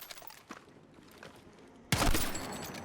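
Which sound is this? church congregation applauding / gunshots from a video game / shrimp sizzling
gunshots from a video game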